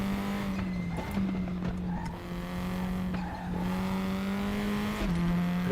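Single-seater race car in the RaceRoom racing game, a steady high engine drone with brief dips at gear shifts and bursts of tire squeal on a quick circuit, running alone throughout.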